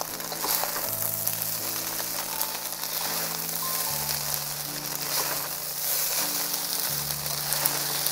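Singapore rice vermicelli and eggs being stir-fried and mixed in a pan, giving a steady close sizzle with soft scraping and stirring throughout, while low sustained tones run underneath and no one speaks.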